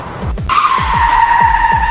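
A black Land Rover fitted with protective mesh and a bumper roars forward in an animation sound effect: pulsing engine revs, then a loud, sustained tire screech as it skids on.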